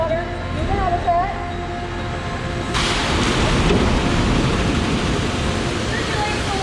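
An aquarium wave machine dumps 1,500 gallons of water, a broad rushing roar that swells abruptly partway through and keeps surging loudly, with tonal squeaks and background sounds in the first part.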